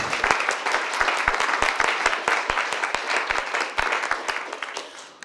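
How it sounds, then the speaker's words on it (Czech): An audience at a public talk claps to welcome a speaker, with many hands beating in an even, lively round and sharp individual claps standing out close by throughout. "A poprosím o potlesk."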